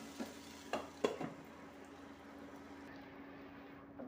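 Prawn roast is stirred in a pan with a few quick scrapes at the start over a faint, steady sizzle, which then continues quietly on its own.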